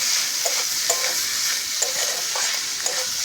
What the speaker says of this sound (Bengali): কুচিয়ে রাখা মাংসটা দিয়ে দিচ্ছি। একটু নেড়ে ছেড়ে ভেজে নেব।